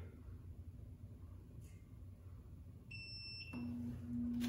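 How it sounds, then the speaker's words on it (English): A high electronic beep sounds for about half a second from a book cover welding machine, followed by a lower steady tone, over a constant low machine rumble. "Again, we wait for the beep."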